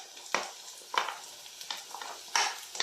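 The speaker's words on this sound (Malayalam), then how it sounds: "ഉള്ളിയെല്ലാം നന്നായി വാടി വന്നിട്ടുണ്ട് അതിലേക്ക് നമുക്ക് മാങ്ങ ഇട്ട് കൊടുക്കാം" Raw green mango goes into softened sautéed onions in a pan for an old-style curry, giving a steady soft sizzle broken by several sharp scraping stirs of a spoon against the pan, close up with no talking.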